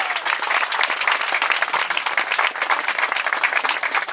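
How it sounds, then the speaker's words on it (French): A crowd claps at a French municipal election campaign rally, loud, dense applause with many sharp individual claps, sustained evenly at close range throughout. "Sophie Oconi, je vous demande d'applaudir, députée européenne."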